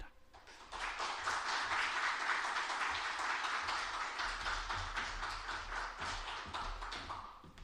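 Audience applause welcoming a professor to the stage at a Bible lecture, a dense, steady wash of many hands clapping that carries on for several seconds before tapering off.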